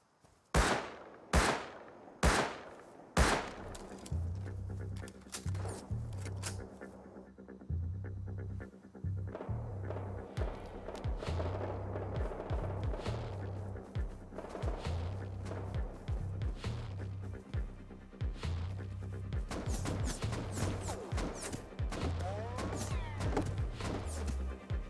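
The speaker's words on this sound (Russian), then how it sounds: "слышу выстрелы" Gunfire in the survival video game Rust: a few sharp, loud shots open, then a steady low throbbing hum runs beneath scattered, fainter cracks and impacts for the rest of the stretch.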